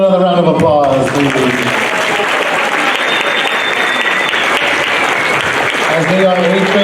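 Steady applause fills a middle school band concert hall, loud and continuous, with a voice speaking over the start and end of the clapping.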